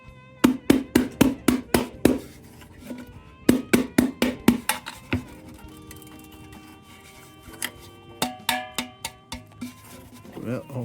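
An old Embury Air Pilot No. 2 lantern air tube is struck again and again to knock debris loose, making sharp metallic knocks in quick bursts of several hits, then sparser bangs.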